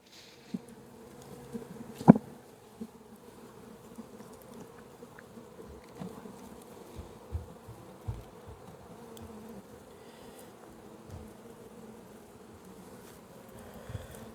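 Honey bees in an opened hive hum with a steady, low, close buzz and scattered light taps and knocks, with no talking.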